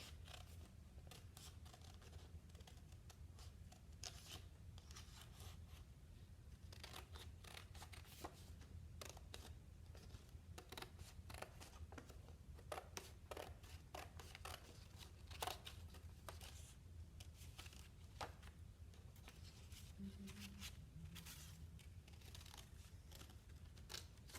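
Scissors snip through paper for a patriotic window decoration, soft rapid cuts repeating in a steady train, close but quiet, with no speech.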